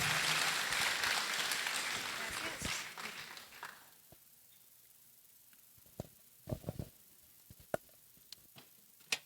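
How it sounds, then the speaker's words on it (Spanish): Conference audience applause at an international technology innovation event, a loud, dense burst of clapping that fades out after about four seconds, leaving scattered taps, shuffles and room noise. "Un fuerte aplauso,"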